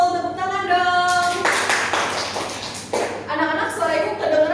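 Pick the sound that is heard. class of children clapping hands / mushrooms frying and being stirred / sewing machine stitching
class of children clapping hands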